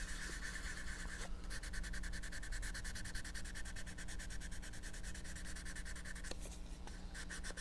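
Quiet, steady back-and-forth strokes of sandpaper over putty and primer on a plastic model kit, rubbing in a fast, even rhythm with a few brief pauses between passes.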